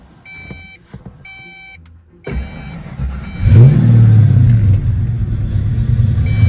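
A 1990 Ford Mustang GT, cold on its first start of the day, chimes a few warning beeps before the engine cranks, catches and settles into a loud, close, steady idle.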